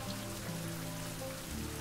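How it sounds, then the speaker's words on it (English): Rain in the survival video game Survival: Fountain of Youth pours steadily in a dense, even hiss, with faint low musical tones beneath and no voices. "while we're waiting for the rain."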